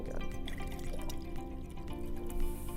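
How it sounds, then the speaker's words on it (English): Water poured from one container into four beakers in turn at a chemistry magic show, a steady trickling and splashing stream running continuously close by, with faint room noise underneath. "I'm going to distribute this water into all 3 of them"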